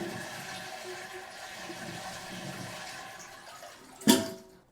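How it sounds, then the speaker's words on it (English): A toilet with a Vormax flapper is flushed after the water is shut off, a running water rush with a sharp clunk of the handle near the end, close and moderately loud. "Then give it a flush."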